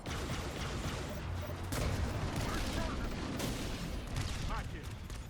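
Dense gunfire and rocket blasts from the Halo CE video game form a continuous loud barrage of overlapping shots and booms, with voices faintly mixed in.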